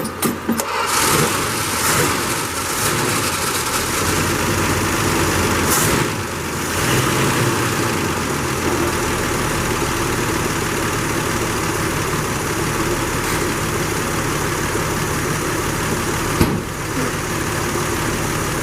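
A 1979 Chrysler LeBaron with a faulty choke turns over after a jump start and then runs with a loud, steady engine drone close by, broken by a couple of brief bumps.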